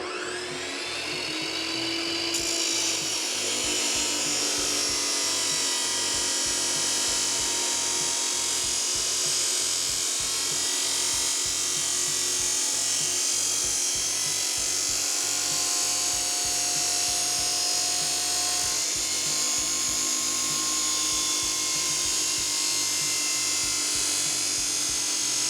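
A Kobalt 14-inch chop saw slices through 2.5-inch stainless steel exhaust pipe, a loud continuous abrasive whine and grinding screech that holds steady for the whole stretch, close to the microphone with no talking.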